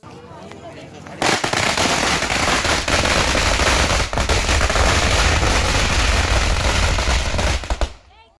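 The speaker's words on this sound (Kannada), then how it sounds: "ಪಟಾಕಿ ಶಾಟ್ನ ಹೊಡಿತಿದ್ದಾರೆ." Firecrackers set off as the finishing salvo of a village temple fair, a dense, continuous barrage of loud overlapping bangs and crackles that erupts suddenly and rolls on for several seconds before cutting off, with faint voices just before it starts.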